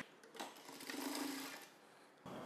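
A sewing machine stitches the side seam of a medium-size blouse in one short, quiet run of rapid whirring needle strokes that stops abruptly, with no talking.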